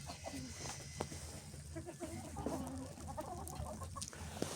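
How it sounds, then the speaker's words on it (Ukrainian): Turkeys and chickens gobble and cluck on a small snowy farm, several birds calling in short irregular bursts over steady background noise, fairly faint and without talk. "Це індюки."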